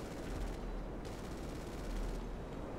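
Rapid automatic gunfire in a police-versus-fugitive video game, a dense continuous rattle of bursts heard alone, steady and moderately loud with brief pauses between volleys.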